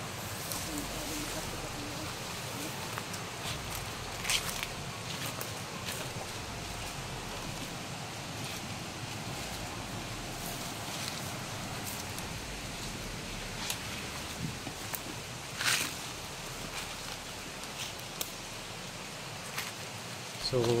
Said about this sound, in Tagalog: Sobrang ingay ng tubig sa sapa.